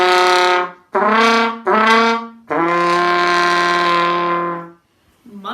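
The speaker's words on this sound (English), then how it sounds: "he needs a low grumbly motif, which is going to sound like this." A low, grumbly musical motif for a big bear character: two short notes, then a longer held low note and a final sustained tone, loud and close, ending in silence before a faint voice.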